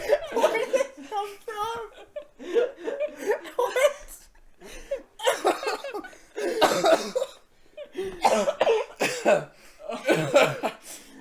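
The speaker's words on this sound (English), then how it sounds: "Coughing podcast." A person coughs repeatedly in short harsh bursts, close to the microphone, mixed with laughter and chuckling from others in an indoor podcast conversation.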